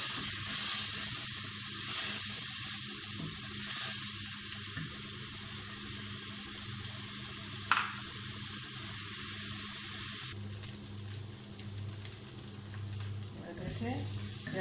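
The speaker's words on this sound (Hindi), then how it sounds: "इसको इस तरह मिक्स करके फ्राई कर लेंगे।" Masala beef sauce mixed and fried in a pan, a Ramzan home recipe: a steady, fairly soft sizzle runs throughout, broken by occasional stirring scrapes and small clinks.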